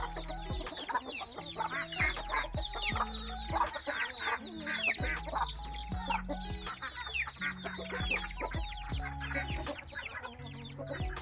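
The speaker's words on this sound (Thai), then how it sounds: "อันนี้ก็แม่ไก่นะครับ" Several hens cluck steadily in a coop and overlap one another at close range, with a busy, continuous chatter of short calls throughout.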